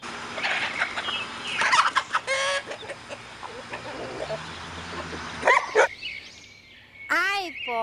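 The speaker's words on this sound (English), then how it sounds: "H for hen." Farmyard fowl cluck and gobble in short repeated calls, with a clear wavering call near the end, all set over a busy background and with a voice also present.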